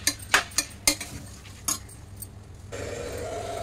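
Metal spoon scraping and clinking inside a pressure cooker while rice, vegetables and tempering are mixed together, several sharp taps in the first two seconds, then quieter stirring with a steady background hum.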